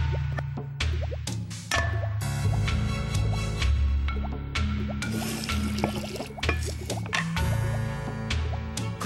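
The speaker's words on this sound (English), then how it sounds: "Stir in the old milk." Game sound effects of old milk being stirred into a pot in the Wii game I Spy: Spooky Mansion, a bubbly sequence of wet drips, squishes and liquid plops over a steady musical background, with no talking.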